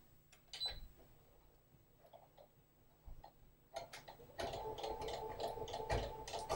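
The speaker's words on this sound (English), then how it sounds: "You can see the needles are stitching on either side of the cording" A sewing machine fitted with a pin tuck foot runs twin needles over cording to form a corded pin tuck, starting with faint scattered ticks and then stitching in a steady rapid whir during the final seconds.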